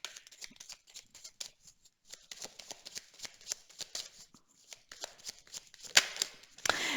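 Tarot cards being shuffled by hand in a series of quick riffling, papery bursts, close and fairly soft, with a few brief pauses, ending in a sharper flurry.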